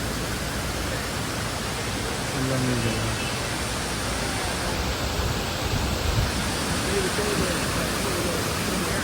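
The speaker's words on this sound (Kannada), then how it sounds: "ಹಾಗೆ ನಡುವಲ್ಲಿ ಒಂದು ಫಾಲ್ಸ್ ನೋಡಿ, ಭಾರಿ ಚಂದ ಇದೆ, ಭಾರಿ ದೊಡ್ಡ ಫಾಲ್ಸ್." Ravana Falls, a large waterfall in Sri Lanka, roars in a loud, steady rush of broadband water noise. Faint voices sit underneath it.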